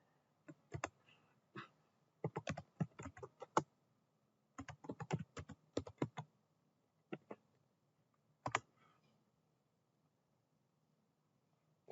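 Quiet bursts of keystrokes on a computer keyboard as a terminal command is typed, with irregular clusters of crisp clicks separated by short pauses, close and alone with no talking.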